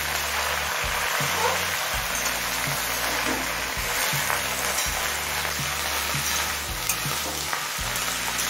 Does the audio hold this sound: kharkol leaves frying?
yes